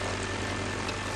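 An aircraft flies over a large Scottish estate, its engine and propeller making a steady, loud drone with a low throbbing pulse throughout.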